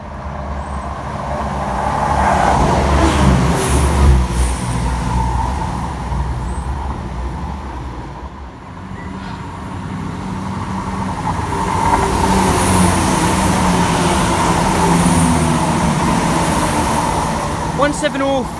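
A fast Inverness to London King's Cross passenger train passes at speed, a sustained rumbling roar with rising and falling intensity across the whole stretch.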